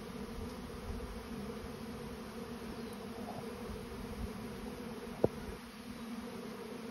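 Bees buzz in a steady low drone as a swarm settles into a bait hive, with one brief sharp click partway through.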